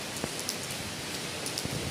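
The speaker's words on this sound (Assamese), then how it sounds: "চাৰিওফালে খালি বৰষুণে" Heavy rain falling in Guwahati, a steady even hiss of downpour with occasional louder drops striking nearby surfaces, no voices.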